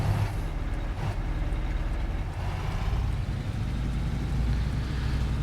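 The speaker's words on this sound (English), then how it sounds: "Have a listen to that engine. Nice rough old engine." Detroit 8V92T diesel truck engine running in American Truck Simulator, a rough old two-stroke heard as a steady, close, deep rumble throughout with no talk.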